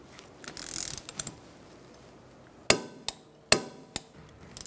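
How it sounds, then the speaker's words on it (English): A torque wrench tightens a rear brake caliper bolt on a 2013-2022 Buick Encore to 30 foot-pounds: after a soft rustle, four crisp metallic clicks sound close by in quick succession. "we're going to torque it to 30 foot-pounds"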